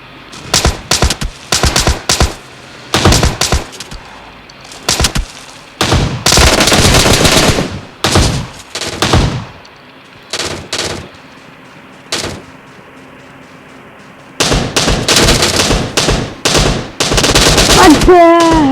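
Gunfire in a battle royale video game, loud bursts of automatic fire and single shots coming in clusters with short pauses between volleys, a voice briefly talking in places.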